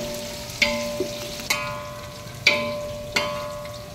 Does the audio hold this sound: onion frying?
yes